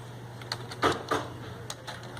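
Scattered clicks of typing on a computer keyboard while a file name is entered, a few soft separate keystrokes close by over a faint steady hum.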